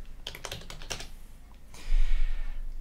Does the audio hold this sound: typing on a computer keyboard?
yes